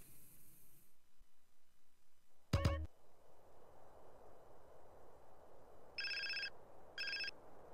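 A telephone rings during a cutscene in the video game GTA San Andreas, a faint electronic ringtone sounding in two short bursts after a brief sharp knock, set against a quiet, rhythmically pulsing background hum.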